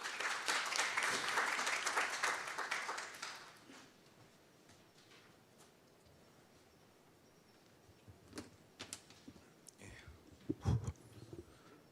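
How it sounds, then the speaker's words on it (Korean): A seminar audience claps loudly for about three seconds to welcome the next speaker, then the applause fades into quiet room ambience with scattered shuffles and knocks. "여러분 뜨거운 박수로 맞아주시기 바랍니다."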